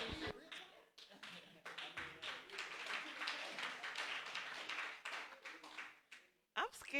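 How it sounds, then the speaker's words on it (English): Audience clapping at a talk, a sustained round of many hands applauding in a room, rising quickly, holding steady, then tapering off near the end, moderately loud. "I'm scared to talk because y'all just clapped for that"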